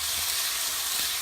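Fideuà noodles sautéing in a hot pan, a steady close sizzle with faint stirring scrapes, continuous and fairly loud with no talking.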